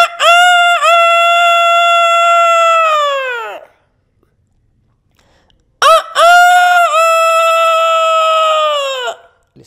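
A man imitates a chicken with his voice, giving two long, loud, strained crowing-like calls separated by a few seconds of silence.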